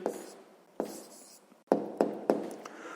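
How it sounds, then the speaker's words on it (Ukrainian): A pen scratches across paper while an answer to a sixth-grade maths exercise is written down, in several close, brisk bursts of strokes separated by short pauses, with sharper taps toward the end. "Гаразд записуємо відповідь"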